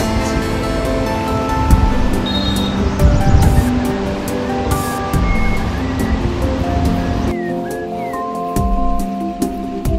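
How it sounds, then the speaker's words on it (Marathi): Water rushing near a waterfall at Jawhar, heard as a loud, continuous broadband roar close by, with a steady tonal hum running through it and no voices. "पाण्याचा आवाज."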